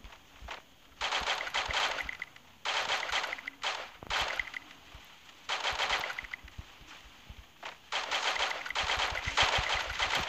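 Bursts of automatic gunfire in the Free Fire mobile shooter game, rapid sustained volleys of several seconds each separated by short pauses, loud and close, no talking.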